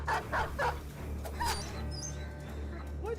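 A dog in the video game Battle Brothers gives a few quick, fairly faint barks at the start over a low steady game hum, with small chirps after.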